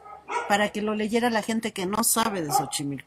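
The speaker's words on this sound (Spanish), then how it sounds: "perdón por los perros" Dogs barking in the background, several yips and barks mixed under someone speaking Spanish during a talk about Xochimilco.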